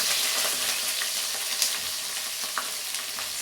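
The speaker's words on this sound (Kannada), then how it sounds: "ಸಿಡಿಯುತ್ತೆ ಸ್ವಲ್ಪ ಎಣ್ಣೆ" Onions and green chillies sizzle steadily in hot oil in a pan, a dense crackling hiss with occasional pops, close and continuous with no talking.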